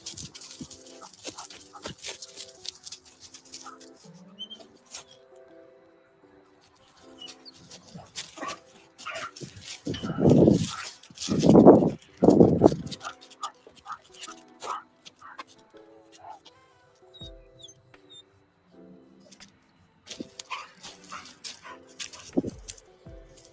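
A dog runs and barks outdoors during field testing while chasing a deer, sending out a cluster of loud close barks in the middle amid rustling movement and sparse background activity.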